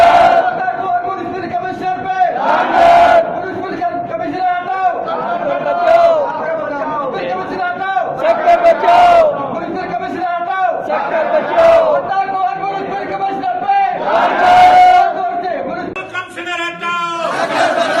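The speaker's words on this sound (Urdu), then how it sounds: "احتجاجی دھرنا دیا اور مطالبات کے حصول کے لیے فلک شگاف نعرے بازی کی" Protesting municipal workers outside the municipal commissioner's office in Sukkur chant slogans loudly, a leader's call answered by the crowd in repeated bursts, with shouting and chatter throughout.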